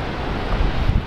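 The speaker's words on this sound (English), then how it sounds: "Feel the wind," Strong wind buffeting the microphone on the southern Oregon coast in a continuous low rumble, with a hint of surf beneath.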